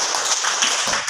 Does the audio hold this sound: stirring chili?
no